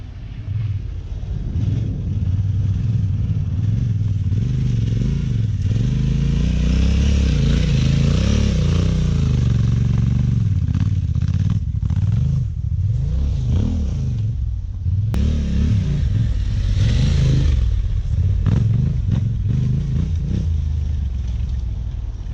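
A Yamaha Ténéré 700 riding off-road on tarmac-oriented tires, its engine droning loud and steady with rising and falling revs as speed builds, over rumbling wind and terrain noise.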